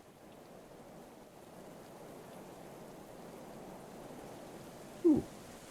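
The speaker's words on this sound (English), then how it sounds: "Ooh, I've not seen rain in a long time." Soft, steady rain falls in the medieval colony game Going Medieval, a faint even patter throughout with one brief louder tap near the end and no talking.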